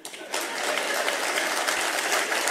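Applause from the crowd at a Shiv Sena Thackeray faction political rally, starting suddenly and holding as a dense, steady wash of clapping.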